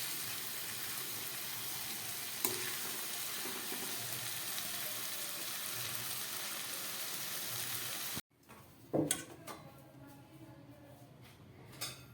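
Cabbage and paneer fry in a pan with a constant close hiss and sizzle, broken by an occasional clink. The hiss cuts off abruptly near the end, leaving quieter kitchen clatter and bumps.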